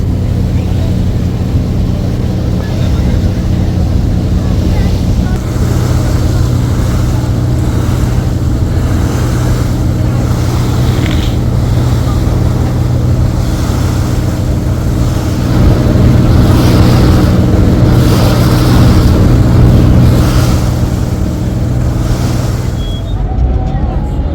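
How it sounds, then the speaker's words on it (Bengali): An LPG gas carrier ship passes on the Kirtankhola river near Barishal, heard from aboard a passenger launch as a steady, loud low engine drone with water wash and wind noise throughout. "একটি জাহাজ যাচ্ছে কীর্তনকলা নদী দিয়ে"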